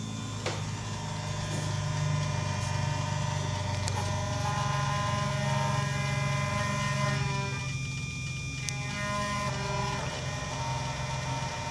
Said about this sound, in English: once we put on the ignition, we are going to hear both throttle bodies hum